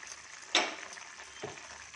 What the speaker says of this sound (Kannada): ಇದನ್ನು ಇಲ್ಲಿಗೆ ಹಾಕಿ ಫ್ರೈ ಮಾಡ್ತೀನಿ